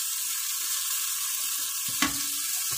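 Tomatoes go into a pan of frying green chillies while cooking a quail biriyani, giving a steady hiss of hot oil with a brief clatter of stirring and a fresh burst of sizzle partway through.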